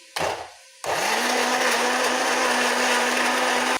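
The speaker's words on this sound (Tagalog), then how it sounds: "Blender tayo ng tomato" A brief whir, a pause, then a blender blending tomatoes and tomato paste, running loud and steady for about three seconds with a constant motor hum before cutting off.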